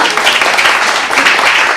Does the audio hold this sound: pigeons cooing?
no